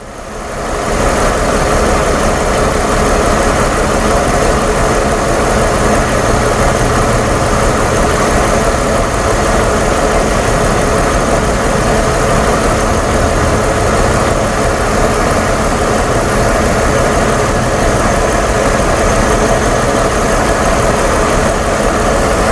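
A 1997 Mercedes-Benz E320 engine idles loudly and continuously up close, with a steady rumble and a faint irregular stumble from a cylinder misfiring because it runs lean.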